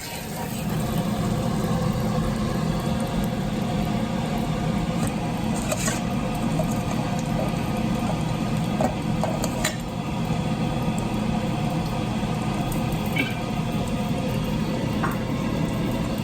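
A steady, loud kitchen ventilation fan drones continuously with a broad whooshing hum while prawns are grilled, and faint clinks and small kitchen clatters come and go underneath.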